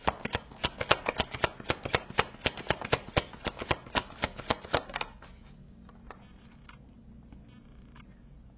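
Tarot cards being shuffled and drawn, a fast crisp run of riffling card snaps for about five seconds, then a few softer card slides and taps on a quieter background.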